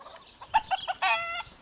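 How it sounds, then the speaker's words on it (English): Chickens cluck nearby in a few short, sharp bursts, followed by a longer drawn-out squawk. "there's some cluckety clucking chickens"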